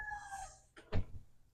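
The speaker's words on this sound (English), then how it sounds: "neighbor's chickens are crowing" A neighbor's chickens crowing outdoors, one short rooster-like call trailing off, then a brief louder burst nearby, with no talk.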